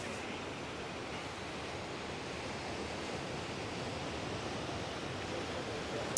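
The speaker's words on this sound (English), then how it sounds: "the waves are about 4 to 6 feet." Ocean surf of roughly 4 to 6 foot waves in the Hagatna channel, a steady, dense wash of breaking water that stays loud and constant throughout with no talking.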